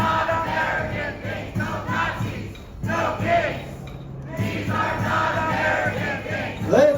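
A protest march crowd cheers and shouts in loud, rolling waves, with the noise dipping briefly before swelling again, while a voice rises above it in places.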